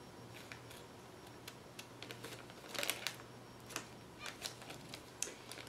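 Scissors snip paper parts out of a Poppin Cookin Japanese hamburger food kit, with soft, close, irregular snips and rustles at low volume in a quiet room.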